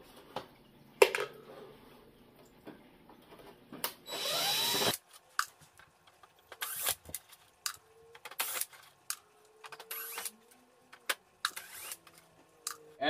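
A power drill backing screws out of an aquarium hood, short close whirring bursts, one longer run, separated by clicks and clatter of handling in a quiet room.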